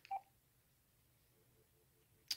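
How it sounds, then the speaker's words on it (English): Faint dialing tones from a phone calling a cell phone sealed inside a makeshift household Faraday box, two short tone bursts at the start and end over a quiet, low hum. "I'm going to try calling my phone"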